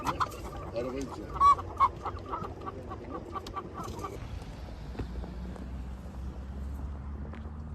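Chickens from an overturned live-poultry transport truck on a ring road, clucking and squawking at a distance over low traffic and outdoor rumble, with a brief louder burst early on.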